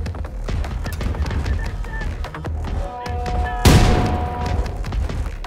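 In the shooter game Wolfenstein II: The New Colossus, a grenade goes off as a sudden loud blast partway through. It cuts across a busy mix of gunfire clatter and game tones, and its rumble trails off afterward.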